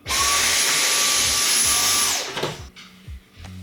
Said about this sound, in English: Maybe a vacuum?